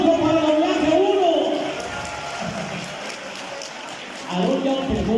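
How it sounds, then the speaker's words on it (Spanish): A class group applauds, a sustained patter of many hands clapping with voices and cheering mixed in, easing briefly mid-way before swelling again. "¡Aplausos para la clase 1!"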